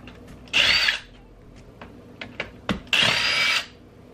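A power drill spins out screws from an NV-T350 transmission case in two loud whirring bursts of under a second each, separated by small clicks and clinks of parts being handled nearby.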